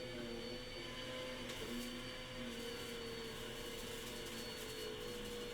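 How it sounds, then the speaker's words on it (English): A vacuum cleaner runs steadily somewhere in a home, a constant whirring drone with a faint hum that holds level the whole time, with no voices over it. "I'll hold on to you just while the vacuum cleaner's going"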